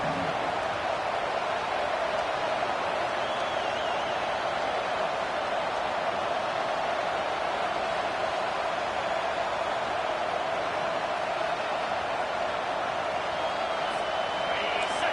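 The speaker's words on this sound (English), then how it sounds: "This crowd busting the decibel meter and trying to will a fourth down stop." A stadium crowd in the Madden / NCAA 25 college football video game roars in a dense, steady wash of cheering and noise throughout, loud and unbroken, urging a fourth-down stop.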